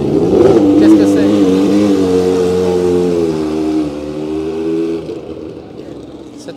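A Formula 1 car passing at the Goodwood Festival of Speed, a loud high-revving engine whose whine shifts pitch as it goes by close to the crowd, then fades, with spectators talking over it.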